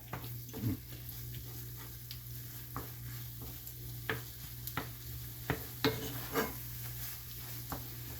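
Ground beef and egg cook in a pan, a soft steady sizzle broken by intermittent scraping stirs of a utensil against the pan, close and moderately loud, with no talking.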